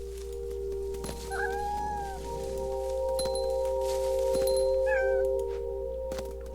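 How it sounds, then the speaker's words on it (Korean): A cat meows twice in the video game What Remains of Edith Finch, short rising-falling calls over a steady hum of game music and ambience. "고양이 울음소리도 내?"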